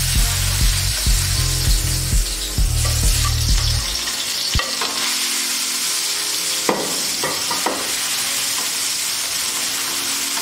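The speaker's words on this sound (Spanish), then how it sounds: "empezaremos a sofreír el tomate dentro de nuestra paellera" Tomato sautés in a paella pan over the flame, hissing loudly and steadily. Repeated utensil scrapes and stirring knocks run through it, with a few sharper clatters later on and no talk.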